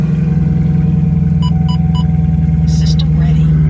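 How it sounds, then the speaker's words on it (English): A Chevrolet Camaro SS 1LE V8 idles after a cold start on a snowy day, a loud, steady low rumble with a continuous drone and faint chimes over it, holding even throughout. "That's a cold start."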